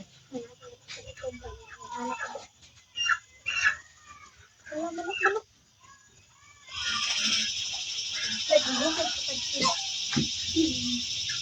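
Chickens cluck and squawk nearby amid people talking in Filipino, with a steady engine-like hum coming in partway through.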